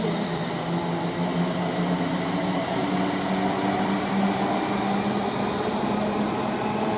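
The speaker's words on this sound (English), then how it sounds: "we've also got a 350 departing" A Class 350 electric train pulls away from Rugby station on the West Coast Main Line, a steady loud rumble and hum with a constant droning tone throughout and no speech.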